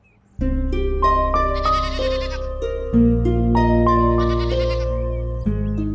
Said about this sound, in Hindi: बकरा लेकर आओ